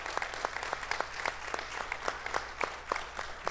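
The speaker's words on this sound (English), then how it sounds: "Please, a big round of applause." Applause at a live stem cell physicians' association event, honoring the event's organizer, a doctor. Sparse, faint clapping from a modest audience, individual claps audible in a loose steady patter, fairly distant.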